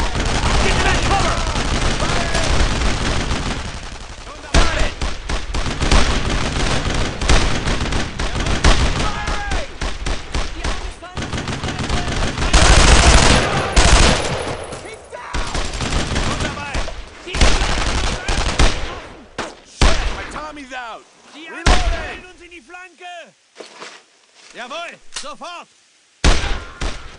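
Heavy World War II combat gunfire in Brothers in Arms: Road to Hill 30 (2005): dense machine-gun bursts and rifle shots, loud and close, thinning into sporadic single cracks with pauses, with shouted voices at times.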